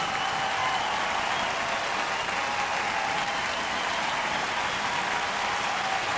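Dense, sustained applause from a large audience at a ballroom dance competition, loud and even throughout with no pauses or voices on top.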